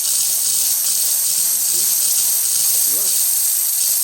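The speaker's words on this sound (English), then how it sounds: "That should get a really good steam on the outside." A Rancilio Silvia espresso machine vents steam in a loud, continuous close hiss that holds steady from start to finish, with a voice faintly underneath.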